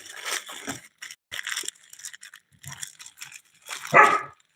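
A dog barking in short separate bursts with quiet gaps between them, close and fairly loud, the final bark the strongest.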